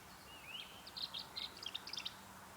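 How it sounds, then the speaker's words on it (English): A tree swallow giving a watery, gurgling call outdoors near its nest box, a faint, brief burst of liquid chirps and warbles over quiet background hiss. "You hear that watery, gurgly sound? That's the tree swallow."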